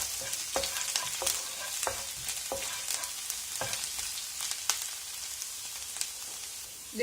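Chopped garlic and ginger frying in hot oil, a steady bright sizzle with repeated stirring scrapes and light taps of a spoon against the pan, close and moderately quiet, with no voices.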